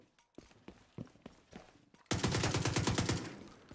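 Rapid automatic gunfire in The Division 2: spaced single shots or footstep-like hits lead into a loud, sustained burst of fast, evenly spaced shots close up.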